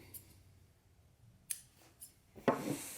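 Scissors cut sheepskin close to the hide in short clips, making a few crisp snips about half a second apart, ending in a louder, rougher cut; no voices.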